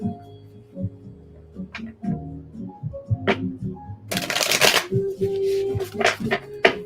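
Tarot oracle cards being shuffled by hand, a dense burst of riffling and flicking around the middle among lighter card taps and handling noises, close and fairly quiet, with no talking.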